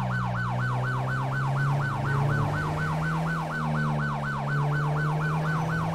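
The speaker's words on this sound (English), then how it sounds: "Right, let's change the siren." Police siren from a CHP 2016 Explorer patrol car in GTA 5 LSPDFR wails in a fast, steady yelp pattern over a low engine drone, loud and continuous throughout.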